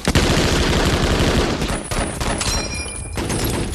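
Dense machine-gun fire and overlapping gunshots from a World War II battle scene in Saving Private Ryan, loud and continuous throughout, with sharp bursts layered over a rumbling barrage.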